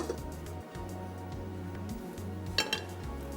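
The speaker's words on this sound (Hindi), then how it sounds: "एक अदद चाहिए हमको पतीली" A metal cooking pot handled in a home kitchen while preparing badami handi, with a few quiet clinks and a brighter metallic knock near the end over a low steady hum.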